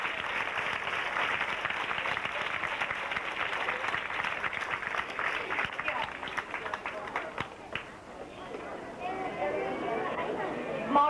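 A crowd applauds steadily for the first young dance competitors at a competition, some as young as five, with a dense wash of clapping and murmuring that thins slightly near the end.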